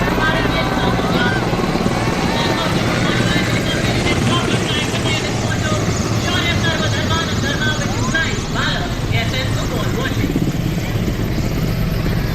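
Indian Air Force Mi-17 helicopters fly past in formation during a Republic Day parade rehearsal, a loud, continuous rotor drone that holds steady for the whole stretch, with a commentator speaking over it.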